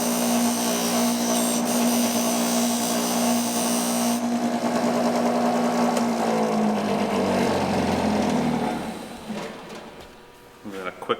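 Power polishing of an aluminum tube during restoration of a Messerschmitt Bf-108 aircraft: a loud, steady buffing whine and rumble running continuously, then winding down near the end.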